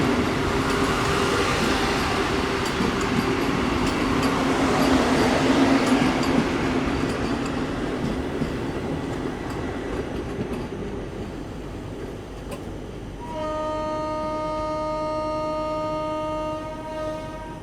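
A Vande Bharat express train runs right alongside, its loud rumble and rattling wheels close and steady, then a sustained tonal horn blares for the last few seconds.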